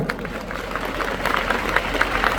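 An audience applauds loudly at a district founding festival in Madhubani. The clapping is dense and steady and swells in the second half, with a low hum underneath.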